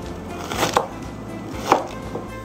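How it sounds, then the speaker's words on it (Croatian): Knife chopping purple cabbage on a board for a risotto, a couple of soft cuts around two distinct louder strikes, close and fairly quiet with no voices. "A zatim narežemo ljubičasto zelje"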